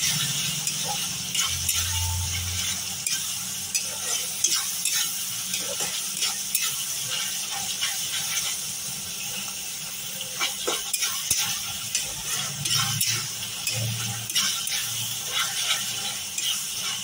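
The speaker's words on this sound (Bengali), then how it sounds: "পেঁয়াজ টমেটোটা ভাজা ভাজা হয়ে এসেছে, আমি দিয়ে দিচ্ছি এর মধ্যে 1 চামচ আদা বাটা, দিয়ে দিচ্ছি এর মধ্যে 1 চামচ রসুন বাটা।" Ginger and garlic paste fries with onion and tomato in a pan for a jackfruit curry, giving a continuous soft sizzle with frequent stirring scrapes and light rattling taps; no talking.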